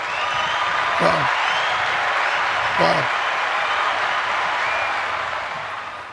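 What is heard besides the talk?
audience applause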